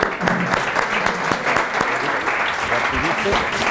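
A studio audience at a Spanish food and wine talk show breaks into steady, dense applause, loud and close, with a voice speaking briefly over the clapping.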